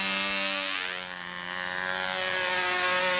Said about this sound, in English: you're gonna get hit by a model plane